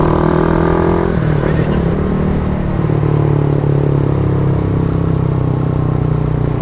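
A Raider 150 Fi motorcycle fitted with a Red Leo power pipe exhaust rumbles steadily up close during a road test, a deep loud drone with a shift in pitch near the start.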